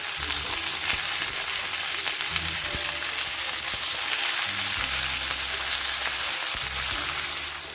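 Onion and capsicum sautéing hard over a high flame for a besan-style dish, giving a loud, continuous, close-up sizzle and crackle with faint scraping stirs underneath.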